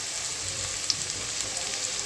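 Garlic sizzles in a pan over lowered heat, a steady soft frying hiss with faint crackles and no voices.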